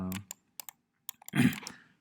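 Someone types on a computer keyboard in several quick taps, a short pause, then a brief cluster of soft clicks, quiet and close.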